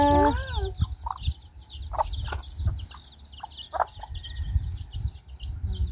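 Chickens clucking in a rural yard, a series of short separate clucks and squawks over a low rumbling background, fairly close and moderately loud, with one higher drawn-out call near the start.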